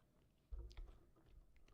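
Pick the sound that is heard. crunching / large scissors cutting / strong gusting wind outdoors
crunching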